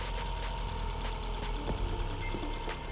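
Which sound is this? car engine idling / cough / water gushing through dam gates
car engine idling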